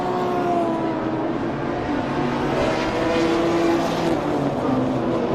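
BMW race cars lap the Zwartkops circuit in a steady, loud engine drone with rising and falling tones as they pass, blending into one continuous roar.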